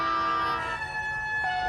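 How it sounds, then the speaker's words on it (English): A siren sounds loud and close with a sustained wailing tone, pitch shifting slightly partway through, alone without talk. "The siren's going to sound."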